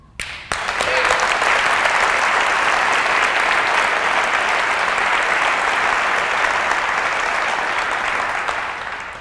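A live audience applauds loudly and steadily for about nine seconds, a dense sustained clapping that starts abruptly and holds at full volume before easing slightly at the end.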